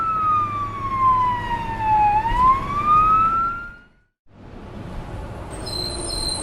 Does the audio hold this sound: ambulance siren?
yes